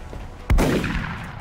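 A single loud gunshot in XCOM bangs out close and sharp, then fades through a short echoing tail.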